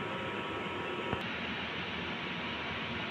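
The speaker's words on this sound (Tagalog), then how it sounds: "Ito naman po ang 5 feet smart Ecosolvent machine" A 5-foot smart eco-solvent printer runs with a steady, even mechanical whir and broadband hiss, like a fan, close and constant throughout, with one brief faint click partway through.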